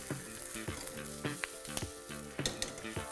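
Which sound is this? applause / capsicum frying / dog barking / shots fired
capsicum frying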